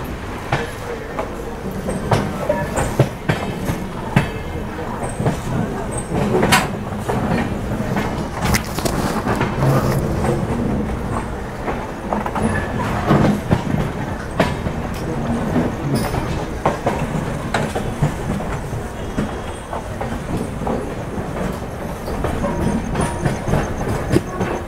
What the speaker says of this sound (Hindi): धीरे धीरे वो ट्रेन दूर होती जा रही है